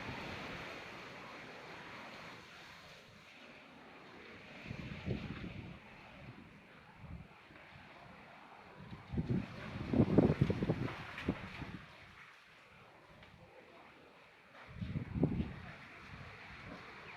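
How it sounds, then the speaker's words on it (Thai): Strong storm wind roaring and buffeting the microphone, with a steady rushing background broken by several heavier gusts spaced a few seconds apart, loud and close. "ลมแรงมากเลย"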